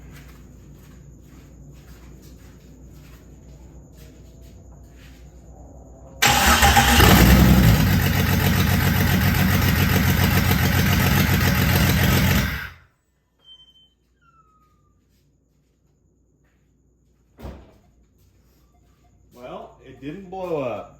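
Jeep XJ stroker engine on its first start with exhaust dumping straight after the header: a sudden very loud raw roar bursts in after quiet crickets, runs about six seconds, then cuts off, followed by faint voices.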